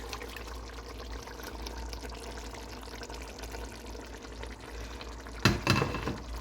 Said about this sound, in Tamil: இந்த அரை மணி நேரம் இந்த மேரினேட் பண்ணின இந்த கனவா மீன் இருக்குத்தானே அதை இதில் சேர்த்துக்கொள்றேன்